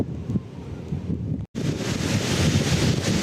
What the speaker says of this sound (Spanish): Está bastante ventoso en este lugar